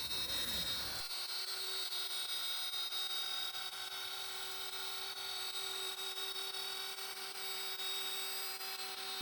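A CNC router cuts wood at eight-times speed, making a continuous high-pitched whine with dense tonal bands after a short burst at the start, steady and moderately loud with no voices.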